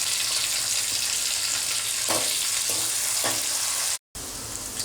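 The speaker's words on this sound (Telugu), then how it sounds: "ముందర పోపు వేయించుకుందాము" A tempering of chana dal, dried red chillies, cumin, peanuts and curry leaves sizzles steadily in hot oil, loud and close, with a few soft stirring scrapes and a brief cut near the end.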